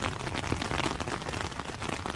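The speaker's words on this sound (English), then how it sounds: "Rain, rain, go away." Rain falling steadily at a campsite beside Loch Ness, a dense, even patter of drops on surfaces, fairly soft and continuous without voices.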